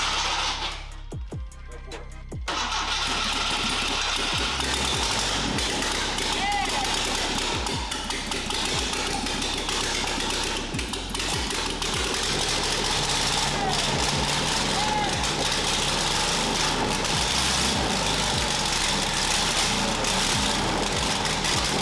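A Porsche 928 V8 engine cranks briefly, then catches and settles into a loud, steady, rough idle that runs continuously close by, with occasional knocking under the drone.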